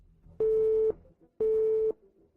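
Busy signal on an unanswered phone call: two loud, even electronic beeps of about half a second each, separated by a short gap, heard alone.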